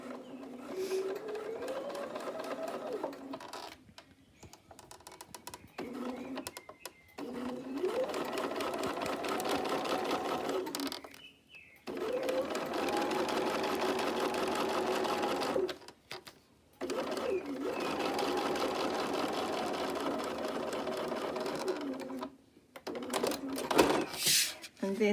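A sewing machine stitches a plastic pocket in several fast, rattling runs separated by short pauses, close and clear, with a voice heard faintly around the stitching.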